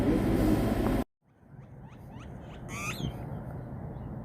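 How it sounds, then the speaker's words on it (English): Blackbirds call with a few thin, quick chirps and a brief squawk over low outdoor ambience around Quartzsite, Arizona, after an abrupt cut from louder background noise; the calls are faint and distant. "Those blackbirds are interesting."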